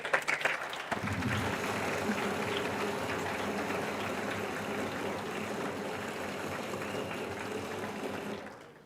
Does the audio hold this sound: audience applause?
yes